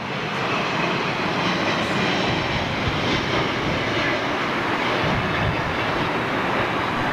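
An Airbus A330 airliner at Heathrow gives a steady, dense jet engine roar that stays broad and loud for the whole stretch, with no voices over it.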